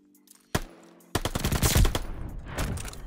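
Bursts of automatic gunfire from Call of Duty Vanguard ranked multiplayer, a sharp shot at the start followed by a loud sustained rattle of rapid fire that trails off, with no talk over it.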